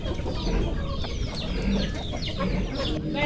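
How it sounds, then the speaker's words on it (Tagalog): Poultry on a rural farm cluster and cluck noisily at afternoon feeding time, a dense, continuous chatter of many birds close by with no clear speech. "Tuwing hapon nagpapakain si tatay ng mga alaga niya. Yung mga alaga ng pato."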